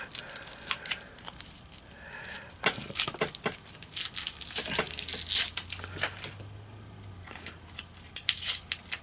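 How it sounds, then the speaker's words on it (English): Masking tape is peeled and torn off a freshly painted servo, giving a close run of crisp ripping, crinkling and rustling bursts with short pauses between pulls. "Tear the tape off here."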